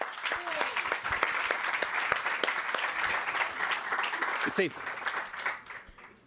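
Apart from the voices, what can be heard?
audience applause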